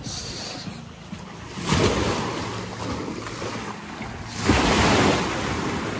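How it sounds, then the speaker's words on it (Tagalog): Strong waves crash on a beach shore in Anda, Bohol, in two big surges, with constant wind buffeting the microphone. "Nalakas ang alon."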